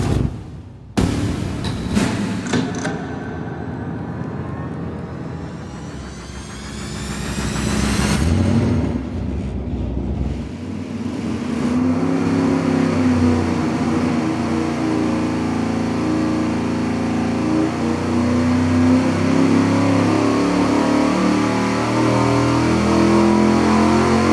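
An engine fitted with aluminum cylinder heads roars on a dyno, starting with a loud burst, sweeping up and down through revs, then holding a heavy, sustained high-rpm drone, loud and close.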